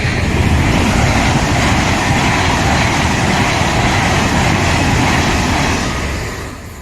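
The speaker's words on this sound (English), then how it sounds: "I wonder how many trains pass here a day on a normal weekday." A loud, steady rumbling roar of a train going by close at hand, holding level before fading away at the end.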